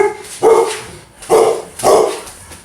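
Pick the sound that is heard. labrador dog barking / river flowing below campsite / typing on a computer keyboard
labrador dog barking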